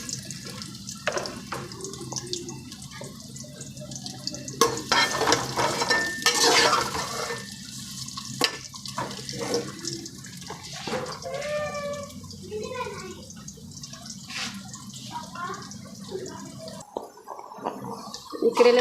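Bitter gourd (karela) slices frying in hot oil in a kitchen pan, a steady hiss and sizzle with clinks of utensils running throughout, while a person talks over it.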